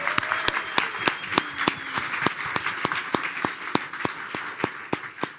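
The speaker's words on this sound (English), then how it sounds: "Can we give a round of applause?" A conference audience applauds its speakers with steady, sustained clapping, many hands close together at a moderate level, a voice briefly audible over it.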